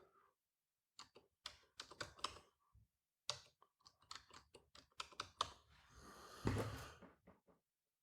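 Fingers type a root password on a computer keyboard, producing quick irregular bursts of close, crisp key clicks with short pauses between them and no voices.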